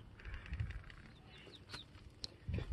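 Chickens murmur and cluck softly inside a coop, with a few brief higher chirps over a low rustling background.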